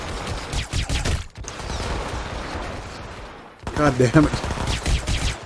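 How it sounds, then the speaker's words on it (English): Rapid bursts of gunfire in a Hitman: Absolution shootout, loud crackling volleys with a brief lull before a heavier barrage, while a man swears over the shots. "It's gonna be a shootout and a half."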